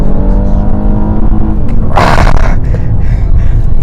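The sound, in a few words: Honda Legend all-wheel drive sedan accelerating hard from launch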